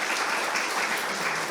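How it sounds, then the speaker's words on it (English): A conference crowd gives the panelists a round of applause: a dense, steady roar of many hands clapping together, fairly loud and close, with no voices over it. "let's give our panelists a round of applause,"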